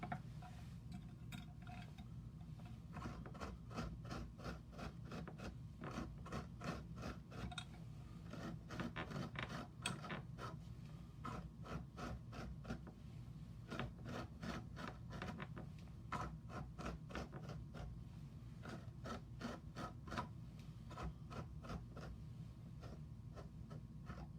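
A fly-tying dubbing brush spun in a locked vise gives a fast, steady run of dense ticking and rubbing clicks that continues without pause, fairly quiet and close, with no voices.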